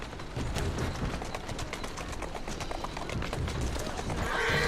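A horse's hooves clip-clop at a walk in the Assassin's Creed Syndicate video game, a steady even rhythm over street ambience with distant birds, moderately close.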